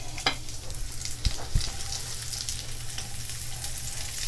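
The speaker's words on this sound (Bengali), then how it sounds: "এবার এগুলাকে আমি আবার ভালো করে একটু ভেজে নিচ্ছি" Carrots, cashews and other nuts fry in a pan, giving a steady, close sizzle with a few sharp clicks and scrapes from stirring.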